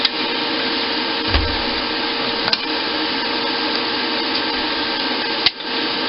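A helviLITE filMAKER 182 MIG welder runs its wire feed, a steady close motor hum with a few faint clicks and a brief thud, without talk.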